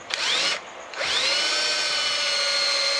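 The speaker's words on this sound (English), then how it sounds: "I'm going to drill the hole" A power drill with a Forstner bit bores into wood, its motor whining steadily at high pitch and dipping briefly as the bit bites in before winding back up to a sustained, loud drone.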